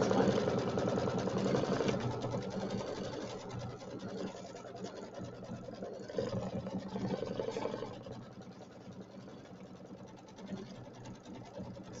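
A domestic sewing machine runs a decorative stitch along a quilt block in rapid, steady mechanical chatter, close and continuous with brief slowdowns, while a person talks over it.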